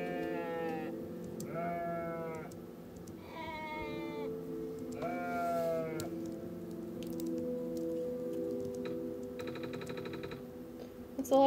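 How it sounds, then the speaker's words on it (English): Sheep bleating in the video game OneShot, a series of wavering, nasal baas repeated at roughly one-second gaps over a steady synthesized music drone, fairly close and clear, with a short bright chime near the end. "Hello, sheep."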